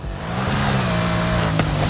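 A Ford Bronco in the racing game Forza Horizon 5 gives a loud, steady engine drone that builds slightly, with a brief sharp knock near the end, and no voices.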